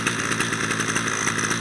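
Grass cutter engine running at high revs, a loud, steady buzzing two-stroke whine close by, with a slight pulsing flutter and no voices.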